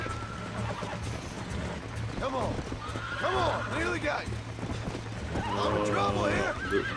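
Horse neighing and clip-clopping hooves from the Red Dead Redemption mobile mod game, with several whinnies rising over a steady low background hum, all beneath continuous talk.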